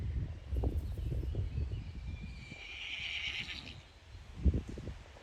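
A stallion in a grassy field neighs in a loud, close whinny near the start, with shuffling hoof and rustling sounds, a high drawn-out call in the middle, and another sharp burst near the end.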